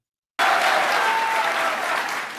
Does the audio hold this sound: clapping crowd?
yes